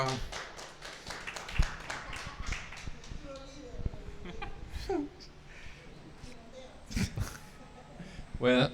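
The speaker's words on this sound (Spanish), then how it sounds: "Un aplauso, por favor" Scattered applause from a small class, uneven individual claps and taps in a room, interspersed with talking and movement noise rather than a steady ovation.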